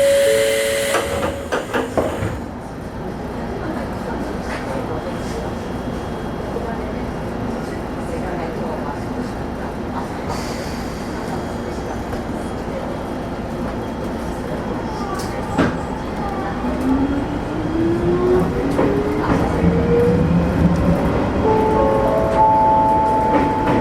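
An Izuhakone Railway Sunzu Line train runs from Mishima toward Shuzenji with a steady rumble and hiss of the running carriage, a door chime near the start, rising motor tones toward the end, and a Japanese onboard announcement voice over the noise.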